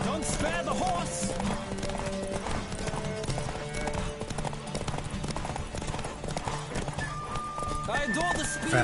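Rapid hoofbeats of a galloping horse in The Witcher 3 pound steadily with an occasional whinny, set against game music and a voice talking over it.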